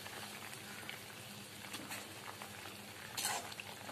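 Prawn malai curry with coconut milk bubbles in a pan with a soft, steady crackling simmer, faint and continuous throughout.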